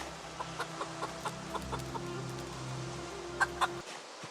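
Chickens in the game Project Zomboid cluck in short, repeated calls over a steady low hum, with a brief louder burst of clucks near the end.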